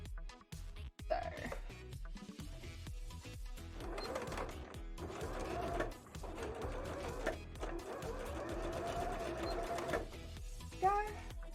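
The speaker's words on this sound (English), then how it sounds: "So I'll do a top stitch and then I'll put the blue in." A sewing machine top stitching fabric for a bra runs in a steady mechanical whir with rhythmic needle clatter, stopping and restarting, close and fairly loud, with small clicks of handling between runs.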